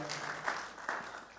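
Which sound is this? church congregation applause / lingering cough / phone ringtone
church congregation applause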